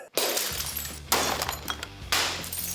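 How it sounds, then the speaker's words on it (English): Glass and assorted objects smashed in a rage room, with three loud separate crashes of shattering glass, each followed by tinkling debris, heard close with no talking. "individuals and groups get 20 to 30 minutes to smash and break glass, electronics, and things that make a lot of noise"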